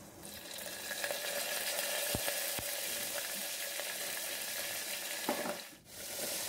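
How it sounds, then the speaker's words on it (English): Asafoetida and curry leaves fry in hot oil in a pan for methi dal, a steady close sizzle with a few sharp pops and crackles and a brief dip near the end. "Fry all the ingredients until aromatic."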